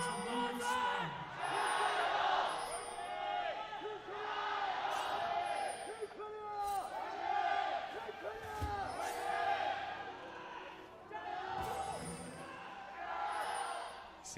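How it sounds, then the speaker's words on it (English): Crowd of fans cheering and yelling at a League of Legends esports final, Korea versus China at the 2018 Asian Games; sustained loud roaring swells with whoops throughout, mixed with voices talking over it. "Seems as though the cheering, the fans are running their voices as ragged as we are"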